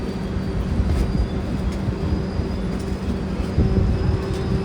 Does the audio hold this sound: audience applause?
no